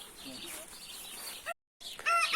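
Chickens cluck and a rooster calls close by against an outdoor farmyard background, with a brief cut to silence before a louder burst of clucking.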